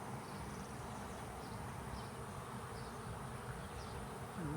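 A honey bee swarm sits high in a tree canopy, giving a faint, steady, continuous buzzing drone throughout.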